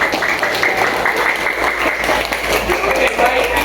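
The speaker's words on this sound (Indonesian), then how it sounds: "Tepuk tangan untuk kita semua lah." Classroom applause from students, a burst of many hands clapping together, close and loud, with some voices mixed in.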